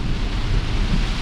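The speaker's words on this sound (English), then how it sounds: "Again, heavy rain." Heavy rain drums on a Tesla Model X driving on the highway, a dense, steady hiss and rumble with no break.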